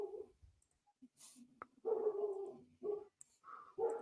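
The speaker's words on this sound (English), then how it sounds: "now my dog is barking" A dog whimpers and lets out a run of short yips and barks, fairly faint and intermittent, with brief pauses between bursts indoors.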